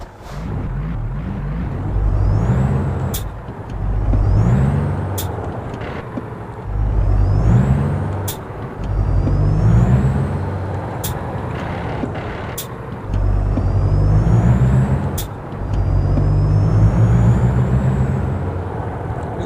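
A truck engine in American Truck Simulator climbs through speed shifts, with each rising engine whine cut by a short pause and click at the gear change. The pattern repeats about seven times, loud and close, with no talk.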